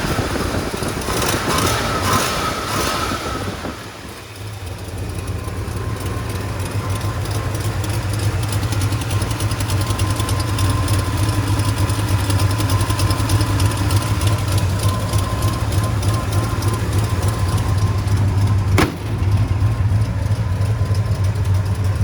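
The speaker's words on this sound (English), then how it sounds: "There's your 429 engine." The 429 Cobra Jet V8 of a 1970 Mercury Cyclone GT idles steadily with a deep, rumbling low throb, running continuously and close by with no talking.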